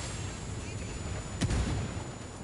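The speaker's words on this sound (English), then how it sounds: "Who the fuck is shooting mortars?" A single mortar or artillery blast in the game Ghost Recon Wildlands, a brief, distant-sounding boom with a rumbling tail that rises over a steady low background hiss.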